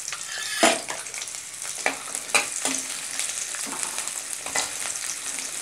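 About 100 grams of small peeled shallots fry in hot oil for a Chettinad egg curry masala, giving a steady close sizzle broken by sharper crackles and scrapes as they are stirred.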